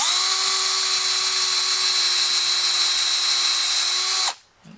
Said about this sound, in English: Now let's try that twist bit.